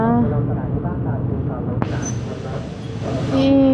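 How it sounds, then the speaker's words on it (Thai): Steady low rumble and rattle of a moving train carriage in Thailand heard from inside, with a sharp clunk midway and faint voices in the background. "ตอนนี้พี่วินก็ น่าจะครึ่งทางแล้วเนาะกับการนั่งรถไฟกลับบ้านที่สะพานหินนะคะ"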